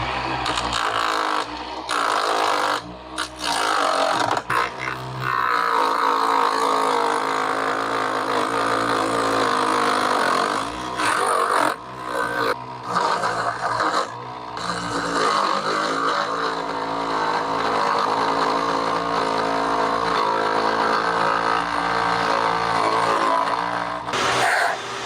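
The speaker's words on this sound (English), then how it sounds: "It's an old chisel, and I'm going to start chipping away at it." An old chisel cutting away at a short pen blank produces a steady, loud, roaring scrape that runs almost unbroken for the whole stretch, with only brief dips, close by and without speech.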